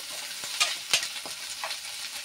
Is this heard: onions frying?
yes